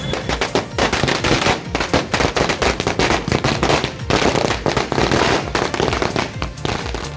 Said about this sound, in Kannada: ಪಠಾಣ್ ಅನ್ನಪೂರ್ಣ ತುಕಾರಾಂ ಸಿಪಿ ಯೋಗೇಶ್ ಗೆಲುವಿಗೆ ಮಹಾಲಿಂಗಾಪುರದಲ್ಲಿ ಪಟಾಕಿ ಸಿಡಿಸಿ ವಿಜಯೋತ್ಸವ ನಡೆಸಿದರು